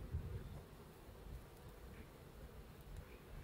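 Honeybees hum softly in an opened hive as young bees emerge from brood comb. The steady buzzing stays faint and close, with no talking.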